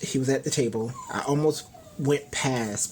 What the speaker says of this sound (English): if you hear my dog in the background, he's whining because I'm talking